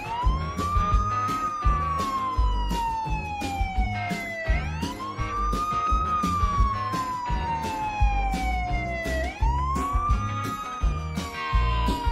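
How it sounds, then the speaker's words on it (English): A wailing police car siren from a Roblox video game rises and falls in long repeating sweeps, loud and close, with scattered clicks and game effects over it and no speech. "Police car."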